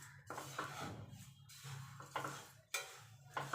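Flattened rice (chira) dry-roasted in a pan without oil, with repeated scraping and stirring of the flakes against the metal, close and fairly quiet, coming in bursts with short pauses.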